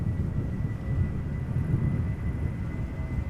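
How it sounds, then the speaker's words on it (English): Vueling airliner at Amsterdam Schiphol spooling up its engines for departure to Malaga, a low steady rumbling roar with a faint high whine, heard from a distance without voices. "Vueling flight 8366 going back to Malaga right now, spooling up."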